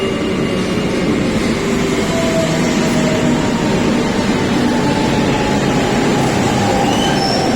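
A metro train runs steadily, with a continuous close rumble of wheels on rail and faint high squeals throughout, and no voices.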